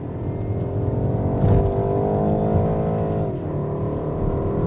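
A 2021 BMW 128ti hot hatch engine hums steadily from inside the car, its tone rising and dipping through a couple of gear changes at moderate loudness, with no talking.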